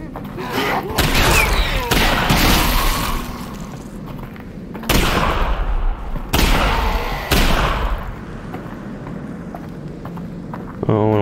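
Gunfire in the VR game Half-Life: Alyx, loud repeated bursts of shots and impacts heard close up under a player's excited talk, with tense game sound between the volleys.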